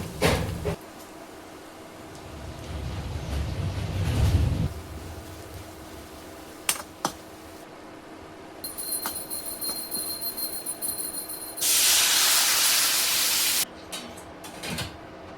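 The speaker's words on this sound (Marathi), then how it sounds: "आता आपण ह्यामध्ये जिरे टाकून घेऊया, थोडीशी मोहरी आणि थोडासा कढीपत्ता टाकून घेऊया." Cumin, mustard seeds and curry leaves hit hot oil in a home kitchen. A soft background hiss and light clatter build to a sudden loud, crackling sizzle that lasts about two seconds before settling back down.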